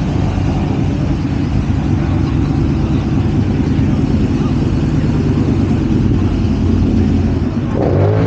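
A late-arriving car's engine rumbles steadily and close at an outdoor car and bike show on a dreary December day in Destin, Florida, a loud continuous drone with a slight rise near the end.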